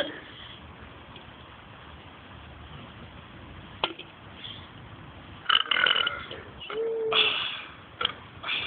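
Loud burps from people in a burp contest, several gulping bursts after a quiet stretch, close by with no talk.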